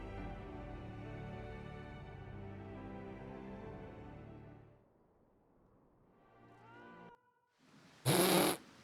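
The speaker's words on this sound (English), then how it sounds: "Why was there a cat meow?" A video game cat meows once in a short high cry near the end, after a long stretch of sustained tonal music and a quieter pause.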